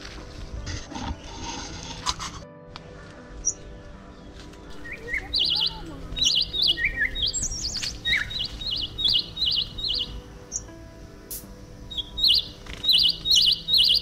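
Small birds chirping near potted bonsai trees, bright rapid tweets repeating in short bursts after earlier rustling and handling noises, close and fairly loud.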